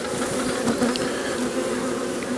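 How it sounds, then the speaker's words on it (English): A honeybee colony buzzes steadily and densely up close during a nuc transfer into a bigger hive box, a continuous drone with no talk. "Bees are not distressed at all."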